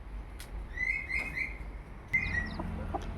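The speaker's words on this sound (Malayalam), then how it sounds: "ഇപ്പോൾ അതാട്ടോ നമ്മുടെ കോഴി കളിൽ ഏഴ് കുഞ്ഞും വിരിഞ്ഞിട്ടുണ്ട്" Hen with seven newly hatched chicks, high thin peeping chirps coming in short bursts over a steady low background rumble, close by.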